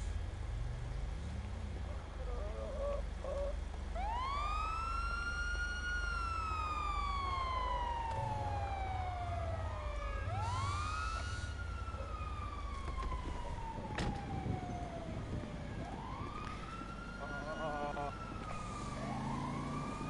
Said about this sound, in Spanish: Ahí está la ambulancia, llega la ambulancia.